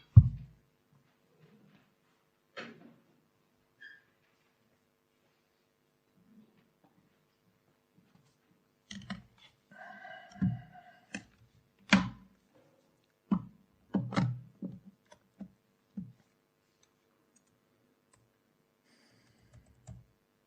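A computer keyboard being typed on in short, scattered bursts of sharp, close clicks, separated by long near-silent pauses in a quiet room.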